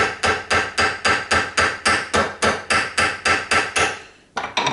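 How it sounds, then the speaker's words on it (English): Quick, evenly spaced hammer taps, about fourteen in a row, cut a paper gasket out against the metal flange of an intake manifold, sharp and close, followed by a brief pause and a final tap. "you can keep hammering and it's not going to slide around"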